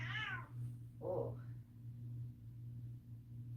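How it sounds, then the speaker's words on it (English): A house cat meows twice, a higher drawn-out call then a shorter lower one, fairly faint over a steady electrical hum in a quiet room. "My little kitty kitty, you gonna come over here and sit in my lap?"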